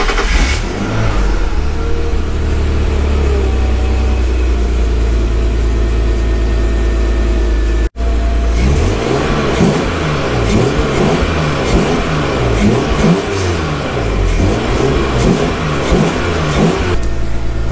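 A BMW 328Ci E46 drift car engine cranks and starts, idles roughly, then after a brief cut revs repeatedly in loud rising and falling bursts, close to the car.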